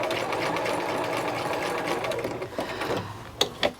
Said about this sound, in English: All right, so the basting stitch is done.